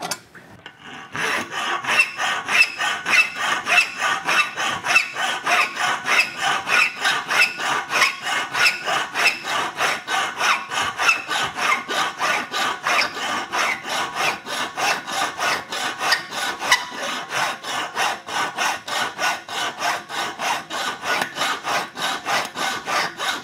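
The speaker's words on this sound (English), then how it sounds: "I'll start filing." Steady hand filing of a miter into a bicycle fork tube in a frame-building shop, a continuous rhythmic rasping of metal strokes lasting throughout, close and fairly loud with no talking.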